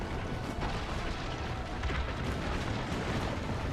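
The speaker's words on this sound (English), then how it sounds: "Ezio needs to man the cannon and fire at siege towers to protect the villa" Cannon firing at siege towers in Assassin's Creed Brotherhood, a dense continuous rumble of booming blasts and battle noise, loud and unbroken.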